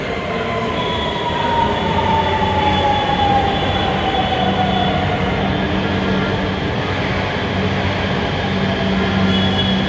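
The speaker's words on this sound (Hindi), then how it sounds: "ये सामने से आपको ये RRTS ट्रेन यानी कि रैपिडेक्स मेट्रो आती हुई दिखाई दे रही है" A Delhi-Meerut RRTS RapidX train pulls into Duhai station with a loud, steady rumble of wheels on rail, a long descending whine and faint squeals as it slows, sustained close throughout with no talking.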